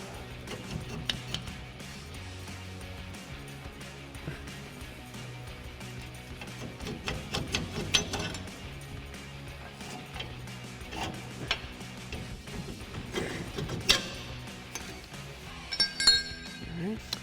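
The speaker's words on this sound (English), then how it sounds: "Go ahead and get our U-bolt slid off." Metal U-bolts are slid off the suspension of a 2005-2023 Toyota Tacoma during a Rough Country 3.5-inch lift kit install, giving light scattered clinks and ticks of metal parts, with someone talking over them.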